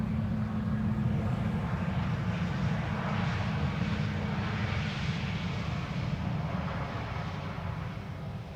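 A Lufthansa airliner lands at Amsterdam Schiphol Airport on a sunny winter day, its jet engines giving a steady, broad roar heard from a distance that fades slightly toward the end.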